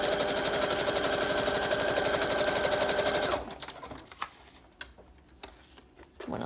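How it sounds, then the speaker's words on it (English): A sewing machine stitches around the edges of a wrap-around bohemian journal page, a fast, loud, even mechanical rattle that stops abruptly partway through, leaving a few quiet clicks and handling noises. "line this up to the edge of the page, just sew around the sides."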